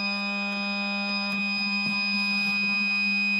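A GD-888 gas detector sounds a continuous loud electronic alarm tone during calibration, a steady close piercing buzz that holds without a break.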